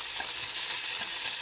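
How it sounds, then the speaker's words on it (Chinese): Garlic scapes and mushrooms hiss steadily in an oiled pan while chopsticks stir them, producing a dense, continuous sizzle with faint scraping movements underneath and no voices. "用筷子呢搅拌均匀"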